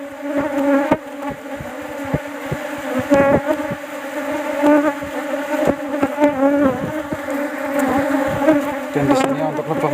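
Swarming bees attacking close to their hive, a loud, dense buzzing drone with wingbeat pitches rising and falling as insects dart near, plus scattered handling knocks and rustles.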